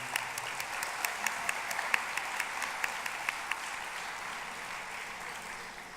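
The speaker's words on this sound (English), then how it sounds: "can we have a round of applause for our faculty and our graduates of 2018" A graduation ceremony audience applauds the faculty and the 2018 graduates, with steady crowd clapping and a few sharp, rhythmic individual claps standing out early before thinning.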